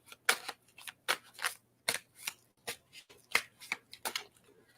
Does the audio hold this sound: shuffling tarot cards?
yes